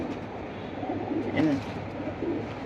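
Pigeons offered for sale coo softly and continuously at close range, with low, rounded calls swelling briefly in the middle and a faint background murmur.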